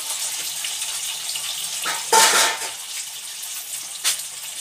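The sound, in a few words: prawns frying in hot oil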